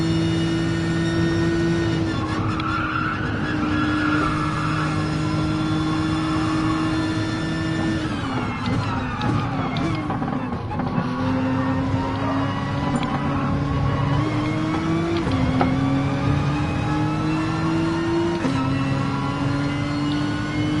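Nissan GT-R and Mustang race cars accelerate hard in Gran Turismo Sport, a loud, continuous engine drone that climbs in pitch, drops briefly at gear changes, then rises again. No voices are heard over the engines.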